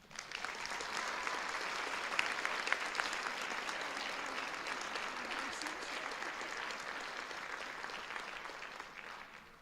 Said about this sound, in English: Let's welcome these new National Honor Society members with a big round of applause.